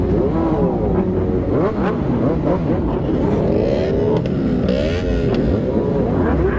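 Several motorcycle engines rev loudly and continuously nearby, throttles rising and falling in an overlapping roar.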